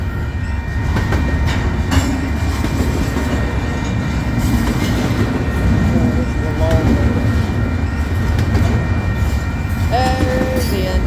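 A Union Pacific freight train with six engines rolls past on a highway crossing, a loud steady rumble and rail clatter filling the whole stretch, with brief squealing tones near the end.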